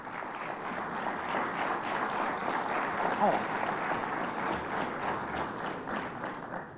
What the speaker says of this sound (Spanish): vamos a recibir con un fuerte aplauso a Francisco Javier Garrido